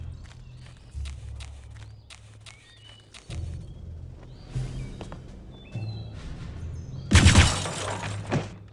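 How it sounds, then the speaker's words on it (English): Glass shattering in Return to Castle Wolfenstein, one loud bright crash near the end following a stretch of footsteps and scattered game noises. "Broke the glass really loudly."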